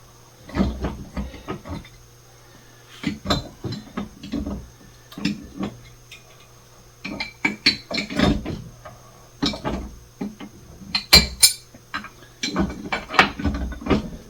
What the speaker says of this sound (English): that's that tab scraping against the threads